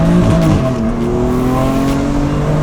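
A tuned BMW M3 making around 550 horsepower accelerates hard with its tires squealing, a loud close engine roar climbing through the revs alongside sharp rubber screech, with no voices.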